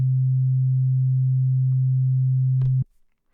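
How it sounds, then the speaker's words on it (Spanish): A pure 130 Hz tone from a tone generator, a loud, clean, steady low hum that holds unchanged for almost three seconds and then cuts off with a small click. "Esto es un tono puro de 130 hercios."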